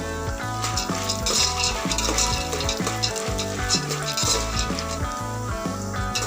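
Curry leaves fry in a pan for poha upma, a dense close sizzle with repeated scraping and clinking of a spatula against the pan throughout.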